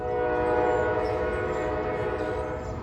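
A train horn sounds continuously, loud and sustained throughout, over a low rumble of rolling rail traffic.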